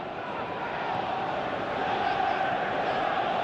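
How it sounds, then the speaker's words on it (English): A dense stadium crowd roars and applauds continuously in the football game Pro Evolution Soccer 2018, a broad, steady wash of cheering that swells slightly toward the end. "Crowd appreciates good football all round there."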